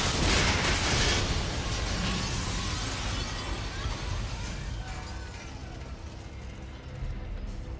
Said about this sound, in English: Why is it that wherever we end up going to, there's explosions?